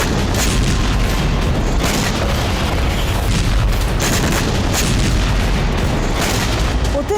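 Dense, continuous booming and rumbling from artillery bombardment in the Russia-Ukraine war, loud and sustained with overlapping blasts and no clear gaps.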